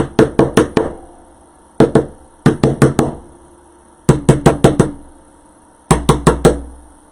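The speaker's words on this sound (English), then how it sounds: "But I have to hammer these in." Loud, sharp hammer strikes in quick bursts of three to five blows, separated by short pauses, close up and alone, hammering pieces into an Easter wreath.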